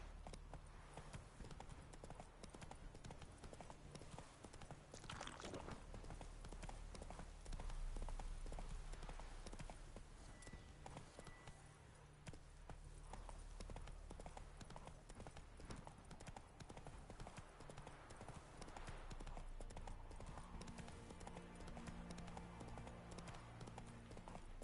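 Roach, a horse in The Witcher 3: Wild Hunt 2024 Edition, gallops in steady, loud clip-clop hoofbeats that continue throughout over a constant background of game music and ambience.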